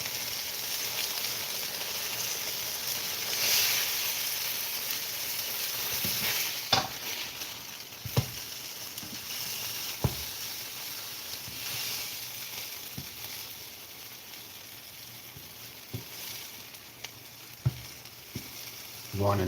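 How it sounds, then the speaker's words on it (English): Sugar glaze warming in a skillet with the heat turned off, a soft continuous sizzle and hiss broken by scattered scraping clicks and taps of a spatula. "everything that you hear now is just a slow kiss of sugars warming"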